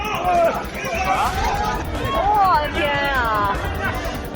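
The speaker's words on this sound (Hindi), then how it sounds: "ये देखिए, ये जो लोगों की भीड़ है वो नींबू के पैकेट लूटने में लगी है।" A noisy crowd jostles and shouts at a Chinese market as people scramble to grab packets of lemons, a dense, continuous hubbub of overlapping voices up close with no single speaker standing out.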